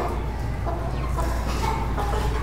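Chickens clucking close by in a village yard, a steady stream of low overlapping clucks and murmurs over a constant background hum, with no talking.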